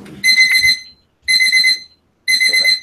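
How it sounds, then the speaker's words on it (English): An alarm goes off in three loud, evenly spaced bursts of shrill electronic beeping, each about half a second long, with brief silences between. "sorry if you hear this alarm, y'all"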